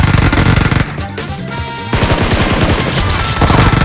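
Loud, close automatic gunfire from the PUBG video game played on an iPhone XR rattles in rapid bursts, with a brief lull before the shooting resumes densely.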